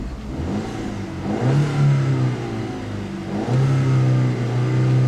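A 2013 Ford Fusion SE with the 1.6-litre turbocharged engine idles quietly, then revs twice with a rising hum that settles back between blips, heard close and steady without talk.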